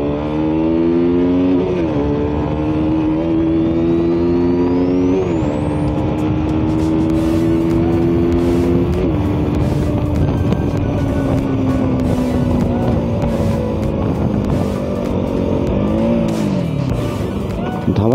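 A KTM RC 390 motorcycle is ridden hard, its engine loud and close throughout, the revs climbing and dropping repeatedly through gear changes with a constant roar of wind and road noise.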